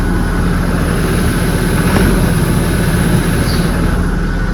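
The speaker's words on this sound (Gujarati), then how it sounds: "ગાડી ઠંડી છે ને એટલે આ રેસ બહુ પકડે." A cold car engine holds a high, fast idle, its steady droning roar close and loud and unbroken throughout, with no talking over it.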